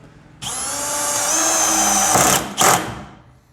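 Power drill driving a screw to fix a telescopic drawer slide in place, a close whirring motor rising in pitch for about two seconds, then a brief second burst as the screw seats.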